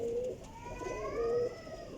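A pigeon from a flock of racing pigeons coos in low, rolling notes close by, two short coo phrases over a soft background hum.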